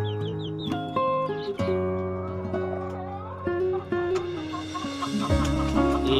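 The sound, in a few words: hen and Bangkok rooster clucking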